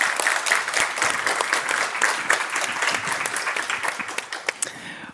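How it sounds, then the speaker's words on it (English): Audience applause for a panel at a live career-club event, a dense steady crowd clapping at moderate loudness for about five seconds, thinning slightly at the end, with no talk over it. "Give them a round of applause."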